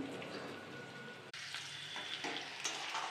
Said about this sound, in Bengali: তো এই যে এখন পেঁয়াজটা লাল লাল করে ভেজে নিচ্ছি পেঁয়াজের সঙ্গে আলুগুলো দিয়ে দিচ্ছি